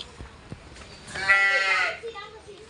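A water buffalo at a resort gives one drawn-out, moderately loud bellow of under a second, set against faint outdoor background noise.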